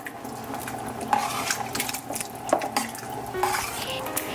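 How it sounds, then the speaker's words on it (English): Soup ingredients with dried parsley and seasonings being stirred together in a pot, a spoon scraping and clinking against the metal sides in a few soft, scattered knocks over a low kitchen hum. "Just mix everything together like that."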